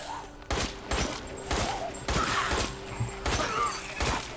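Gunfire in the video game Resident Evil Village, a series of sharp shots fired about every half second, each with a short ringing tail, under steady game background noise.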